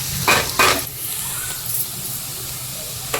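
Carrots and capsicum stir-frying in a pan over low gas heat, a close sizzle with a few sharp bursts of scraping and tossing at the start and again near the end.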